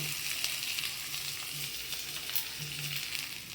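Small shallots and onions sautéing in a pan for onion sambar, a steady close sizzle with soft crackle running throughout, no talk.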